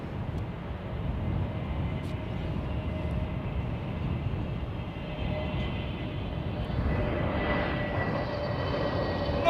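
An Aer Lingus airliner arriving on runway 09 makes a steady, moderately distant rumbling roar, with a faint whine, that grows slightly louder toward the end.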